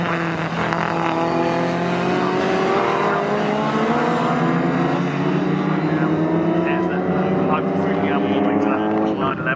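Loud, harsh engine of the number 152 classic Ford Cortina race car at Snetterton, rising in pitch steadily as it accelerates past, with other cars and a commentator's voice running underneath throughout.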